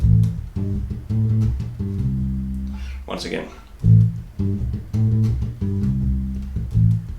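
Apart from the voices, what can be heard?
bass guitar groove, minor pentatonic scale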